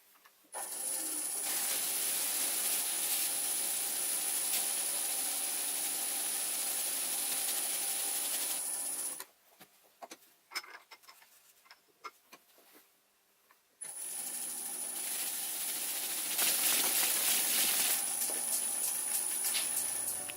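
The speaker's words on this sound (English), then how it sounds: "So I've applied about 4 coats of Danish oil, and now I'm just going to buff it up." Oiled wooden sphere, finished with about four coats of Danish oil, being buffed on a spinning machine: a loud, steady high whine for several seconds, a break with scattered clicks and handling noise, then the whine again.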